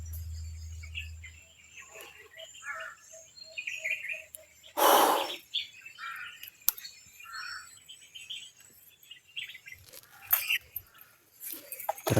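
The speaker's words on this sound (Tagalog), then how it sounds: "Nandiyan na naman yung uwak mga idol." Scattered outdoor bird calls, a few short harsh caws among chirps, with a brief loud burst midway and quiet gaps between.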